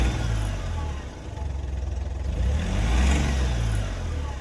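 A Hyundai Matrix engine with a faulty turbo revs in a parking lot, a close, low, rough engine rumble rising and falling in pitch over a few seconds.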